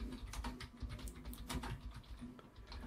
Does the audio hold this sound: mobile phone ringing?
no